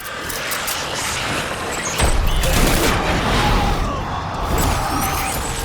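Dense gunfire in the Death Stranding video game, a loud, continuous fusillade of overlapping shots with heavy low rumble that swells partway through, amid chaotic battle noise.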